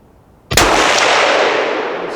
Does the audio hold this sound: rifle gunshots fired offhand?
yes